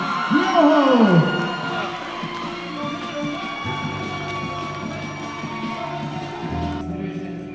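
Crowd at a Summer Shredding Classic 2021 bodybuilding show cheering and whooping after a battle, loud at first with shouts over a dense hubbub, then settling into steady crowd noise with voices.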